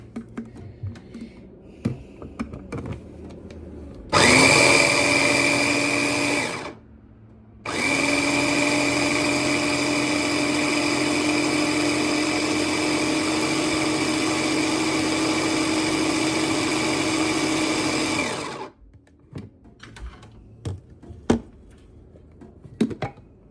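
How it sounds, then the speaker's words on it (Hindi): A blender whirs loudly as it purées boiled broccoli into smooth baby food: a short burst, a brief pause, then a long steady run of about eleven seconds before it switches off, with quiet clatter before and after. "हो तो गया है, पर मुझे लगता है इसको थोड़ा और ब्लेंड करना पड़ेगा अच्छे से"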